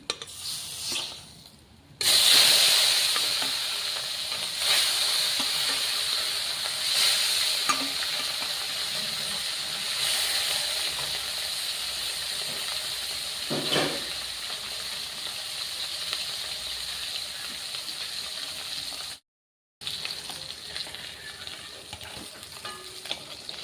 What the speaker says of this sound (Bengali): তার জন্য আমি সব মাছগুলো এইভাবে ভেজে নেব।